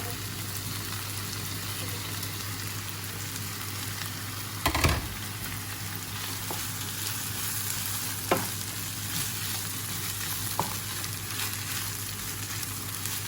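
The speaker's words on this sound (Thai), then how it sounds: "ใส่ลูกชิ้นปลาที่เราเตรียมไว้เนาะ ใส่ลงไปนะคะ" Fish balls frying in curry paste give a steady, close sizzle and hiss, broken by a louder splash and bubbling burst as they drop in, then a few faint stirring scrapes.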